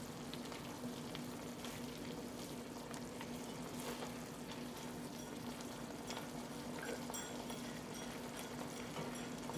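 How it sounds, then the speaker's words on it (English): Shrimp risotto bubbling and simmering in a pan, with a steady dense sizzle and crackle holding at an even level throughout, close and loud with no talking. "it's just bubbling up and it's going to cook down"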